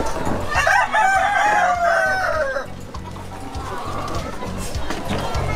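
Roosters crow loudly and repeatedly close by amid clucking chickens in a crowded urban spot in Manila, with people talking over the birds.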